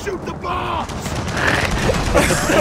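Rapid gunfire and blasts in the Gears of War 4 co-op campaign, aimed at bombs during a boss fight, crackle through the clip while players shout and talk over the shooting.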